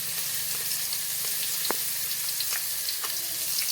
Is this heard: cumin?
yes